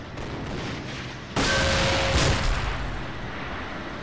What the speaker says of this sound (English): here we can see the Allies will try to shoot it down